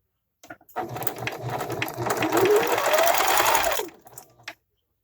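A sewing machine runs steadily for about three seconds while stitching a cloth face mask, its motor whirring and rising slightly in pitch before it stops, with faint handling clicks at the start and end.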